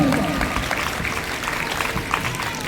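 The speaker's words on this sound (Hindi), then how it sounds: "एक बार और जोरदार ताली हो जाए" Dense, steady applause fills a school Independence Day event, a crowd clapping continuously at close range for the whole stretch, with a hint of voices mixed in.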